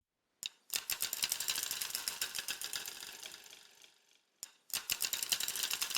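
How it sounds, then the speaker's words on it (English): Synth sound with phase distortion plays as a dense, buzzing, rapidly pulsing texture in two bursts separated by a short gap, close and fairly quiet, no talking. "Then I added a phase distortion,"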